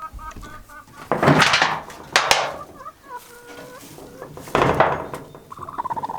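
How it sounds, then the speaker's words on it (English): A broody hen sitting flat over her clutch of eggs gives several close bursts of low clucking and grumbling, with brief quieter pauses between the louder calls. "I'm not really interested in this hen going broody."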